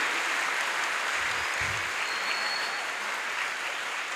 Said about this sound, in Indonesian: Kita tepuk tangan untuk kesuksesan upacara kita pada hari ini.